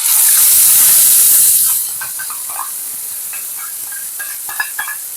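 Spice paste hits hot oil with frying potatoes and erupts into a loud, steamy hiss that settles after a moment into a steady, quieter sizzle with small crackles.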